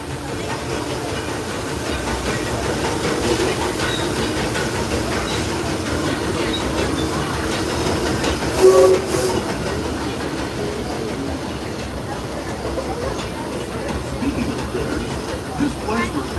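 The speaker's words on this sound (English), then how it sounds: "driving the train now" A Disneyland Railroad excursion train rumbles steadily along the rails with a rhythmic clatter, and a brief louder clank partway through; voices murmur faintly underneath.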